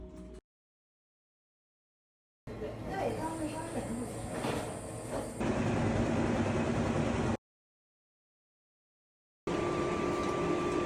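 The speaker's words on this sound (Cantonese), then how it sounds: "所以而家喺地鐵站坐低等一陣先" A subway train rumbles steadily in a South Korean subway station, broken by stretches of silence, with murmuring voices in the background.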